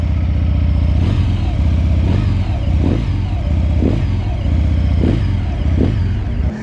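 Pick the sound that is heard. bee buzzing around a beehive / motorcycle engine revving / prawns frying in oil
motorcycle engine revving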